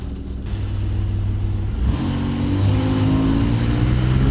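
A car with Varex muffler valves closed driving with windows down on a cold day, giving a steady, close, low engine and exhaust drone that rises slightly partway through, with no talking.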